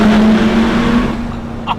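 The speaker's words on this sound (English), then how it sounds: "this is our first underpass with the Lamborghini Gallardo" A Lamborghini Gallardo supercar rumbles through an underpass, its steady engine drone loud and close at first, then easing slightly, with a brief knock near the end.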